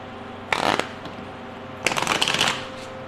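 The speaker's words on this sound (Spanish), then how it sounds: "Vamos a barajar nuestras cartas." Two quick bursts of tarot cards being shuffled, each about a quarter to half a second of papery riffling, close and fairly loud over a quiet room.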